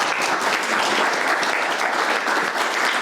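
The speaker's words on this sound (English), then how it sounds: "Molly, if we could give her a warm round of applause and welcome her." Warm audience applause welcoming a speaker at a local public gathering, a dense, even roar of many clapping hands held at steady loudness from start to end.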